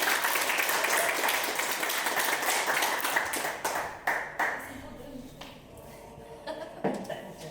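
Wedding guests applaud after a toast, a full round of clapping that thins out over several seconds into scattered individual claps, with some chuckling and chatter beneath.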